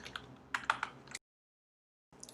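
Keystrokes on a computer keyboard while entering an email address into a sign-in form, a quick run of close, crisp clicks that stops abruptly, then a short silence before more typing resumes.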